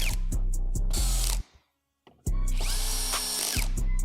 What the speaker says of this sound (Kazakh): 16 миллиметрлік шуруппен қатырып шығамыз.